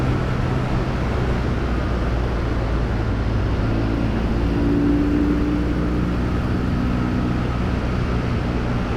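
A 1978 Triumph Bonneville T140V motorcycle engine runs under throttle as a loud, steady low rumble, blended with a strong wash of road and wind roar and a slight rise in pitch midway.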